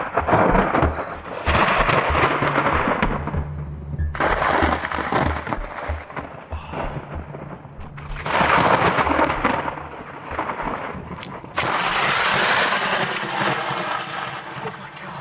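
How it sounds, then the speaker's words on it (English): A nearby lightning strike during storm chasing unleashes loud, booming thunder that rolls in heavy waves, capped by a sharp close crack, with rain beneath and faint talking. "That was a death bolt, and it struck right behind me."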